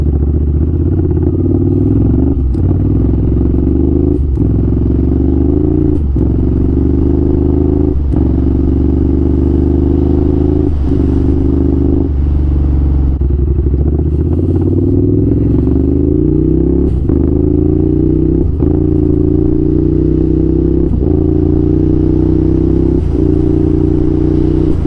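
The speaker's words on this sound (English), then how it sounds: "you basically very fast let go of the throttle, put in the gear, and then simultaneously you twist the throttle again" A motorcycle engine runs loudly and continuously while the rider repeatedly snaps the throttle shut, shifts gear without the clutch and twists it open again, giving a steady pattern of revs, dips and gear clunks.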